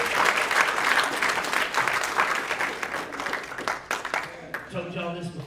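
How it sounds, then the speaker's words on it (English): A church congregation breaks into loud, sustained applause that fades after about four seconds, and a voice starts speaking near the end. "y'all give the Holy Spirit a round of applause"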